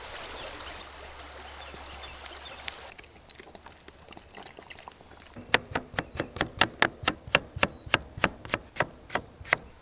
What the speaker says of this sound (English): You gotta wash the potatoes off.